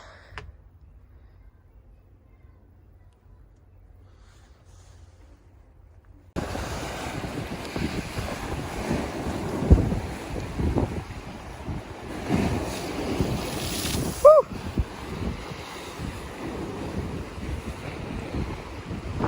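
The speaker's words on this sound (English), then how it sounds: "Look how rough these waves are." Rough ocean surf and strong wind off western Long Island, with heavy wind buffeting on the microphone and crashing waves. The sound begins after about six seconds of near silence and then stays loud and continuous, with no talking.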